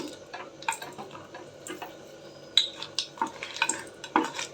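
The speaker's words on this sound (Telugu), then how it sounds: "పోపు కోసం ఆయిల్ అయితే ఒక త్రీ టేబుల్ స్పూన్ వేసుకున్నాం ఒక ఏడైతే ఎండుమిర్చి వేసుకుంటున్నాం" Seven dry red chillies fry in about three tablespoons of oil for a tempering, with a soft sizzle broken by scattered sharp pops, crackles and spatula taps, close up and without talk.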